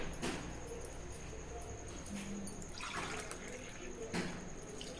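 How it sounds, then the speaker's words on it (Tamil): Water is poured into a rava dosa batter of semolina with coriander, curry leaves, ginger and green chili, giving a faint, steady liquid trickle with a few soft splashes in a quiet kitchen. "இதை பாருங்கள் தண்ணி விடுங்க பாருங்க"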